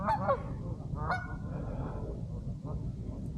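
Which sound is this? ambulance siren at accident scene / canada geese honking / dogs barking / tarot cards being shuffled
canada geese honking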